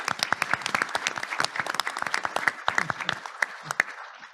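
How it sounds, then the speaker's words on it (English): An audience at an annual economic summit claps in a round of applause, with individual hand claps distinct and fairly sparse, fading toward the end. "So let's all give him a round of applause."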